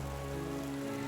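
Heavy pouring rain drums steadily on a surface, a dense continuous hiss with no gaps.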